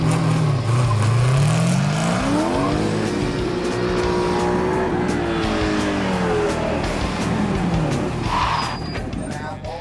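A car launches hard from a standstill in a speed-stop challenge, then brakes into a box marked off by cones. The engine revs and climbs steadily through the run, loud and close, with tire noise and voices heard over it.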